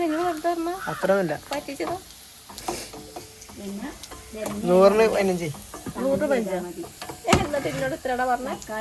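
Soybeans fry and get stirred in a hot pan, giving a continuous close sizzle with scraping motions, while a voice talks over the frying throughout.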